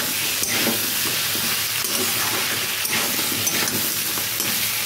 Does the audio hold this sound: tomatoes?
yes